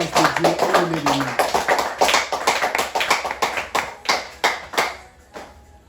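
A church congregation claps loudly and steadily in rhythm, many hands together in a resonant hall, with a brief sung or spoken voice near the start.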